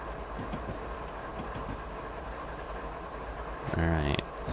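A freight train running on Marias Pass in Train Simulator, a steady low rumble with faint rhythmic clicks and a brief louder tonal horn-like burst near the end, with someone talking over it.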